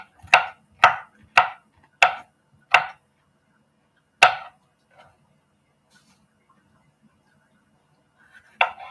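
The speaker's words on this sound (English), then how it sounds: "I can make the pepper slices a little bigger because they cook fairly quickly." A kitchen knife slices bell pepper on a cutting board. Five sharp, evenly spaced chops come close together, then a single chop after a pause, a quiet gap, and another cut near the end.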